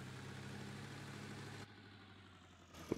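A tractor engine idles with a steady low hum in the video game Farming Simulator, then drops quieter partway through as if heard from farther off, with no talk.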